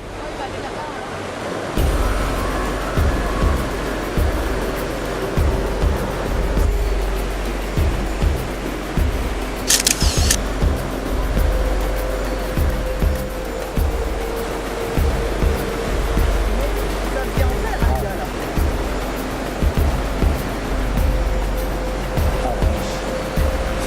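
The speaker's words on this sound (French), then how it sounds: "pour les surfeurs de très haut niveau, cette côte offre des vagues très impressionnantes" Ocean waves break and roll onto the Bali coastline, a loud, continuous roar of surf with rhythmic swells and washes, heard close and with no talk over it.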